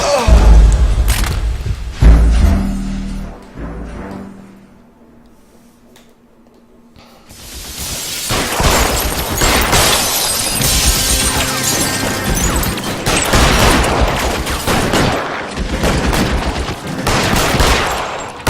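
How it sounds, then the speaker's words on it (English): Repeated gunfire aimed at the player in the video game L.A. Noire: a quieter stretch, then loud, dense bursts of shots and impacts that run on almost without pause for the last ten seconds. "Why does he keep shooting me?"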